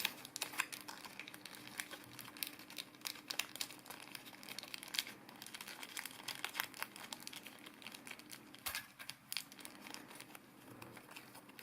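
Paper being folded into an origami scorpion gives soft, irregular crinkles and crisp creasing taps, faint and close, scattered across the whole stretch.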